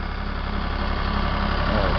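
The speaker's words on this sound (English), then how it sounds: "The tractor's running perfect." A John Deere 5320 tractor engine runs at a steady, even pace, loud and close, its dense low mechanical drone filling the whole short stretch without a break.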